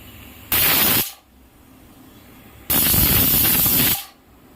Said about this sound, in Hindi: स्लो फ्लेम पर 2 विसिल हो चुका है